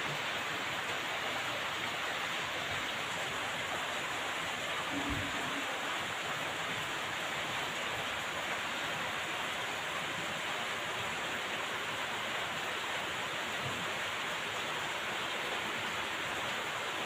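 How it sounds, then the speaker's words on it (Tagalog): Heavy rain pours steadily, a dense continuous hiss of water with no pauses, broad and enveloping, with a faint low thump partway through. "Kung karaniwa ulan to, talagang tuloy-tuloy siya. Lalakas, hihina, lalakas."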